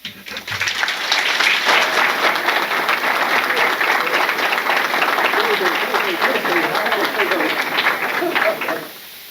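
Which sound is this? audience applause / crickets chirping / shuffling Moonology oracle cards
audience applause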